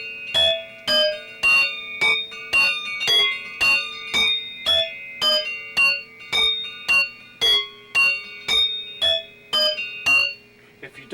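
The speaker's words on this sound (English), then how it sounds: "You're supposed to hit a key, dampen, hit another key, dampen," Gamelan metal keys are struck one after another and quickly dampened by the thumb, producing a steady run of short, bright, bell-like notes with clear gaps between them.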